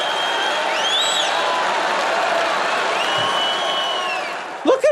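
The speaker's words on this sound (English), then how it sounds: "I can't believe people are cheering for this." An audience cheering and whooping for a person eating, with a steady crowd roar holding throughout and a few sharper voices near the end.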